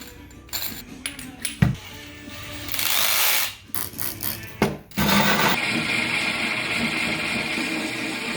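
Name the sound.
diamond bit drilling tempered glass aquarium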